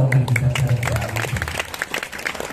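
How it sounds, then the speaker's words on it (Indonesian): An audience clapping at a gathering, a scattered, moderately loud round of applause with a voice talking over the start. "kasih tepuk tangan dong"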